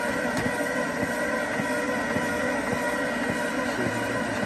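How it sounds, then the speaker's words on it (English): A scuba tank air compressor set to 300 bar for filling a 6.8 L DOT tank, giving a steady, loud mechanical drone with a constant rumble and hiss that runs unbroken throughout, with no talking. "I have the compressor set for 300 bar, which is what this tank is designed for."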